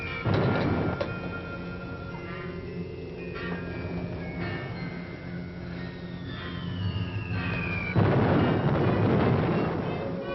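Distant wartime bombing rumbles as a continuous low roar with heavier thuds, swelling louder near the end, with tonal whines and sweeping pitch glides over it and no talk.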